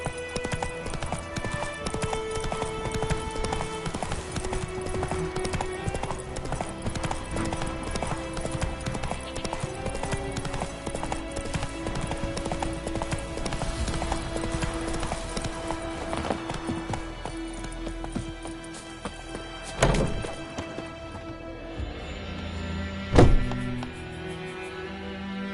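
Roach the horse gallops in Witcher 3, hooves beating a steady, close clip-clop rhythm throughout, with a couple of heavier thuds near the end.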